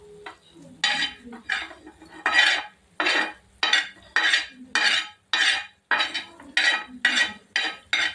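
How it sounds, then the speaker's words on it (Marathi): Roasted dried fish is scooped out of a pan into a metal pot, making a close, rhythmic series of about a dozen metallic scraping clinks with brief pauses between strokes. "भांड्यात काढून घ्यायची."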